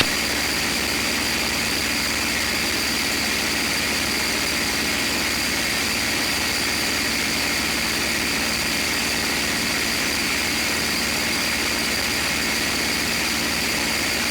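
A P-51 Mustang's piston aircraft engine drones steadily in flight, a loud, continuous roar with a constant hum filling the whole stretch, heard from inside the cockpit with no talk.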